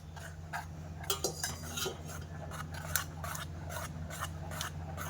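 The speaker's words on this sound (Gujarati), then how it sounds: "દૂધ હલાવીને ઉમેરવાનું અને પાછું મિક્સ કરી નાખશું અને તરત જ આપણે હલાવી લેવું." Milk is stirred into mango halwa in a pan: a series of rough, scraping spoon strokes against the metal, irregular then steadier, close but moderately quiet, over a low background hum and without voices.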